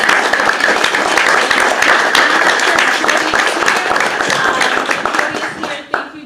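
An audience at a community event claps in sustained, dense applause that fades toward the end, with voices audible among the clapping.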